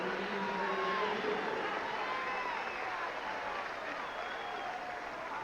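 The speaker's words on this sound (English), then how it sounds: "Nice round of applause from the Philadelphia fans." Philadelphia baseball fans applaud during a 1997 Padres vs Phillies game, a broad stadium wash of clapping and crowd noise, steady and distant, with a commentator's voice running over it.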